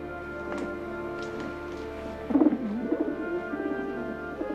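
A pigeon coos in a short, soft burst of low murmuring calls, heard close by over a steady hum of indoor background noise.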